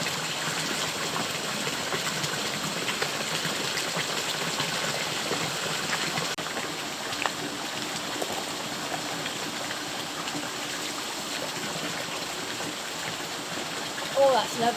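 Steady running drinking water pours continuously outdoors in Austria, a broad hissing rush that stays even throughout, with a faint mechanical hum underneath.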